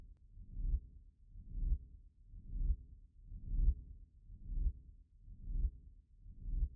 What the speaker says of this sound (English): Almost like a heartbeat.